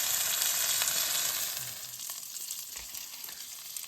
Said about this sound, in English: Just sizzling away nicely there.